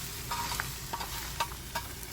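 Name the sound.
eggs being mixed on a hot hibachi griddle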